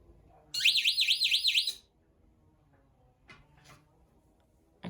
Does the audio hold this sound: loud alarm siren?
yes